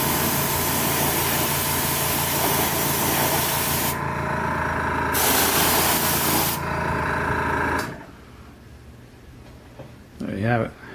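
Spray paint hissing onto a Chevy Camaro Z28 part in long, even passes, loud and close, broken by short pauses before fading into quiet room sound near the end with a brief voice.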